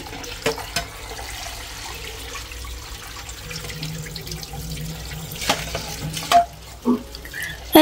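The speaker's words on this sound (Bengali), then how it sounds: "এই যে এখানে ডালটা তো ভালো করে ধুয়ে নিয়েছি" Running water from a kitchen tap as lentils (dal) are washed, a steady close splashing flow with a few louder sloshes and clatters toward the end.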